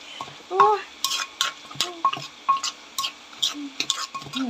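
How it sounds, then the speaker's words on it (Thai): A pestle pounds cicada paste with eggplant and herbs in a mortar, giving sharp, close knocks in an uneven but steady rhythm of about two strikes per second, with small scraping and squeaky sounds between hits. "ตำอีกจักหน่อยให้มันเข้ากัน"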